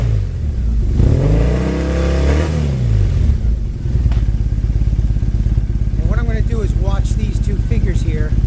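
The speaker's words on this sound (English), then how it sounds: "I'm connected now, and the bike's running" A Triumph Bonneville engine idles close by while it is not yet fully warmed up, a loud steady pulsing rumble throughout, with someone talking over it.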